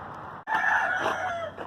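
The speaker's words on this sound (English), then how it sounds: "starting with checking on the chickens" A rooster crows loudly and close by on a woodland homestead in the morning, one long drawn-out call rising over a background of clucking hens.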